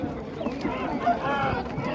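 Three-month-old turkey chicks peep in thin, high calls amid a flock's clucking and rustle, close by at a poultry market.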